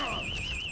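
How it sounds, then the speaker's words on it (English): A household alarm beeps steadily with a high, wavering electronic tone, close and constant. "Oh, my alarm's going off."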